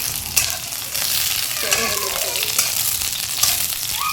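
Eggplant pieces fry in oil with a little salt, giving a steady close sizzle punctuated by a few sharper spits and stirring sounds.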